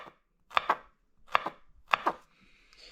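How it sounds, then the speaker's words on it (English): A knife slices garlic cloves at an angle on a cutting board for pickled jalapenos, giving three close pairs of crisp chopping taps at an even pace, then a faint high hiss, with no talking. "I like to slice in an angle like this"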